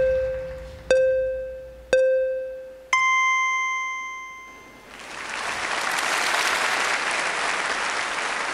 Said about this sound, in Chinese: 谢谢大伙儿的掌声鼓励啊！